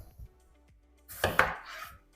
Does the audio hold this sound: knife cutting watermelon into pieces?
yes